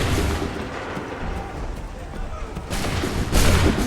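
A musket volley roars out in the Assassin's Creed 3 video game, a sustained wall of overlapping gunshots and rumbling booms, with a fresh, louder burst of shots near the end.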